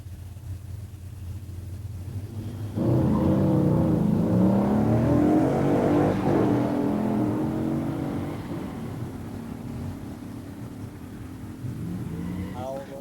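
A 1965 Pontiac Catalina 421 Tri-Power automatic and a 1970 Dodge Charger Hemi 4-speed launch at a pure stock drag race, a loud surging engine roar that rises through gears then fades into the distance under steady background din and crowd chatter.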